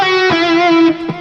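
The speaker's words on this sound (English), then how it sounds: "Okay, and then I have some repeating licks." Electric guitar with a distorted tone plays a short repeating lick over a backing track: sustained, singing notes restated a couple of times, loud and close with no voices.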